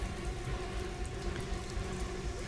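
Rain pouring in the horror game The Park, a constant wet hiss with low rumbling beneath, steady and unbroken throughout the short stretch with no talking.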